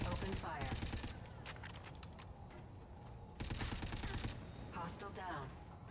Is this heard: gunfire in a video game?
yes